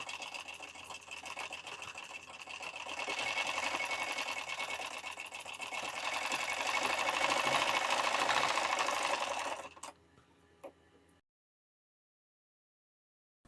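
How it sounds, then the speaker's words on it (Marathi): A sewing machine runs steadily, stitching a half-inch seam along the hook strip of a blouse. The close, even whir swells slightly midway, stops abruptly near the end, and leaves a short quiet tail. "आता आपण इथून शिलाई देऊन घेऊयात।"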